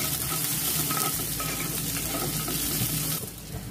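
Cumin seeds and two green chillies fry in about a spoonful of hot oil for Jain vermicelli, giving a close, steady, crackling sizzle that stays constant throughout.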